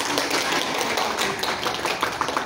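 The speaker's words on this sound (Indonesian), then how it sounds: "mari kita kasih tepuk tangannya untuk" An audience at a school leadership bootcamp event gives a dense, continuous round of clapping, steady and fairly loud, with no talking over it.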